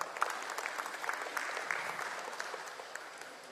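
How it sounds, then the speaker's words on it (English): An audience at an ESG conference applauds, a steady, moderately distant patter of many hands clapping without pause. "A warm round of applause to Dr."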